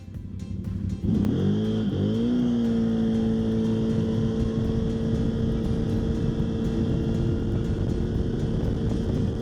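A 2025 Loncin XWolf 1000 quad bike engine idles, then revs up sharply with a rising whine during a 0–100 acceleration run, settling into a loud, sustained high-rpm drone, close by.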